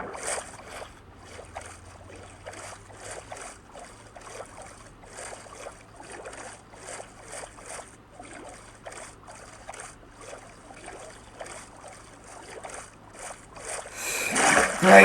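Swimming strokes through water in the Minecraft video game, a quick regular train of soft splashes, about two per second, over a faint low drone, swelling into a louder splash at the end.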